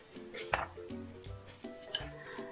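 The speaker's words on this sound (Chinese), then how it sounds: "把它拌匀腌制几分钟" Apple slices tossed with lemon juice in a bowl for a German apple pie: soft scraping stirs and a few light clinks against the bowl, close and fairly quiet, over steady tonal background music.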